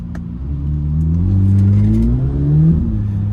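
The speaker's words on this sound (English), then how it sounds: "I floor it like it tells me to, and wow." Engine of a 2026 Chevrolet Corvette Z06 at full throttle, its loud, rising growl climbing through the revs with a brief dip and surge, heard close from inside the car.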